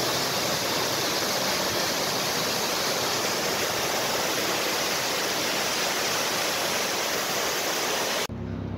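A mountain waterfall along the Kedarnath trek pours down in a steady, dense roar of white water, close and loud without any break before it cuts off abruptly near the end.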